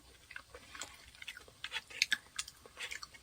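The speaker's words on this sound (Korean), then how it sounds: "저는 이 페스츄리가 엄청 바삭하고" A crispy pastry topped with pistachio cream and nuts is chewed close to the mic, with soft, quiet crunches and bites in an uneven rhythm.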